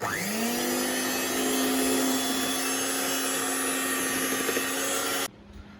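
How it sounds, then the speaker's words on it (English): An electric mixer beating cake batter at medium speed, a loud steady motor whine that spins up at the start, holds constant for about five seconds, then cuts off abruptly. "let's mix for 2 minutes and in medium speed if you're using a machine"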